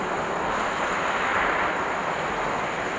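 Flood water runs along a street in a steady broad rush, like surf or a strong current, continuous and moderately distant, with a wind-like hiss and no talk.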